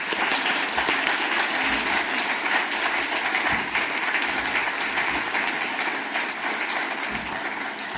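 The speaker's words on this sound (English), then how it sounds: "Let's give Siobhan another round of applause." Conference audience applauding after a keynote talk, dense sustained clapping from a large crowd that stays loud and even throughout, with no voices.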